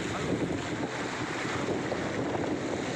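A small motorboat crosses open sea between islands near Olilit in the Tanimbar Islands, with a steady engine drone mixed with rushing water and heavy wind buffeting the microphone, loud and unbroken.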